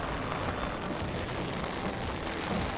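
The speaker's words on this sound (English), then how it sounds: "And the rain's getting heavier again." Steady, heavy rain pours down at an outdoor Christmas market, a dense continuous hiss of drops drumming on surfaces all around.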